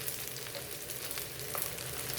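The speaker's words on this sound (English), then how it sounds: "flash frying things" Puff tofu flash-fries in a very hot pan on a volcanic-hot stove burner while making vegan ramen, a dense, continuous crackling sizzle with small pops, close and loud, with no talking.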